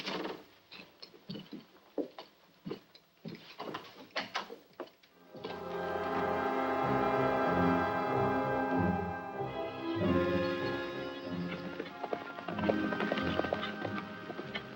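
Horse hooves clip-clop in an old serial western as a horse is saddled, a short run of sharp knocks in the first five seconds before loud orchestral music takes over.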